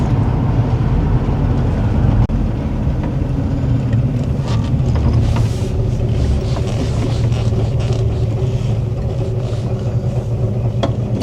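A classic Petty-style race car of the early-1970s body style roars steadily from inside the cabin, its loud engine drone joined by wind buffeting and rattles, with one brief surge as the throttle opens.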